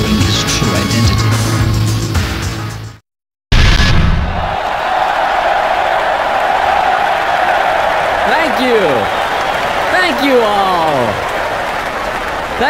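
A crowd applauds in a Tekken 4 tournament cutscene: loud, sustained clapping and cheering that cuts out briefly, then returns as a dense wash with sweeping whooshes running through it.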